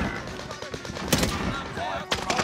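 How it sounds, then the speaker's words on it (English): Rapid automatic gunfire from the video game Warzone crackles in bursts. Gamer chatter runs over it. "Fucking shooting his own goddamn teammate."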